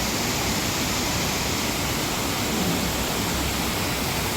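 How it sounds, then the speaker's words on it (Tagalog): Water rushes in a steady, loud, unbroken roar, like a nearby waterfall or fast stream, filling the whole moment with no voices. "Talagaslas ng tubig."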